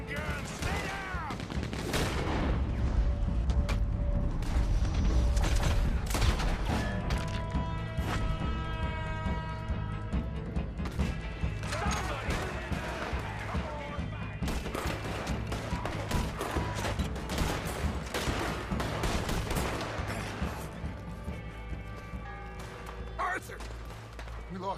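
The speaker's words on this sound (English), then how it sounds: "They got a Gatling gun." Sustained rapid gunfire from a Gatling gun during a bank shootout in the Red Dead Redemption 2 video game, loud and dense throughout, mixed with explosions, game music and shouted speech.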